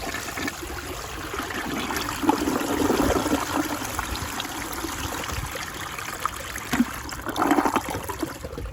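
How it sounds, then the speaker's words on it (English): A Rheem Claymore toilet flushing with water at the waterline, a steady rushing and trickling of water through the bowl that stays fairly even from start to finish, with a few louder gurgling swells near the end. "so here's a waterline flush"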